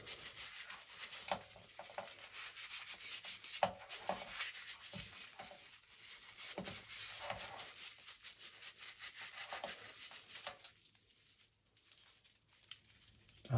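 A 3M respirator mask's head strap is rubbed clean by hand, a faint, close, irregular scrubbing and patting that stops near the end.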